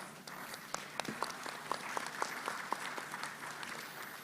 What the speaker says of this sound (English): A round of applause to all the panelists